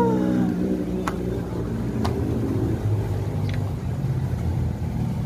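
A car passes close by with a rising, then falling engine drone and some tonal whine, while a few sharp clicks or taps sound over the passing noise.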